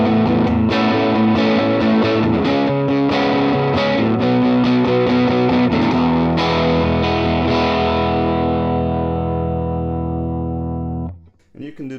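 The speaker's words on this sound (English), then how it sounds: "when you put them both in the middle, you get two humbuckers, much like a Les Paul or an ES335" Vox Humana CarbonTech Special TE-Thinline electric guitar with both P-Rails pickups set as humbuckers. It plays driven, distorted strummed chords that ring loudly and steadily, then let the last chord fade and stop.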